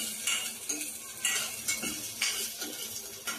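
Garlic, ginger and green chili stirred in a hot pan for Manchurian gravy, with repeated metallic scrapes and clinks of a spoon against the pan over a soft sizzle, close and rhythmic.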